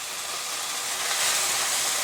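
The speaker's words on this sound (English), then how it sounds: "we're gonna toast that bread and soak up all that butter" Sourdough bread toasts in melted butter in a pan, producing a close, steady sizzling hiss that rises slightly toward the end, with no voices.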